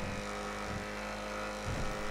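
A car engine drones continuously while driving in Grand Theft Auto V, a steady loud rumble with slight shifts in pitch and no talking.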